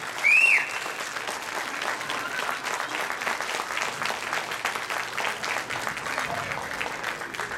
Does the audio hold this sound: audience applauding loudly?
yes